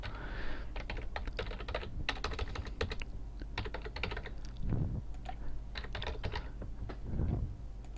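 Fingers type on a computer keyboard while someone fills in account details, giving a steady run of close, crisp key clicks with a few short pauses and no voices.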